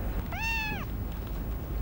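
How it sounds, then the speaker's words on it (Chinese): A cat gives one short, clear meow at moderate distance over a low indoor background hum, then falls quiet. "你看，那么可爱的猫，你还害怕呀？"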